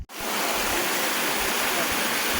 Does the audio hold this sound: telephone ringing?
no